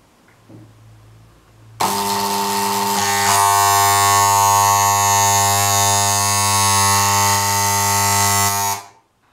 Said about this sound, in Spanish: Y aquí vemos cómo hemos realizado soldadura por puntos.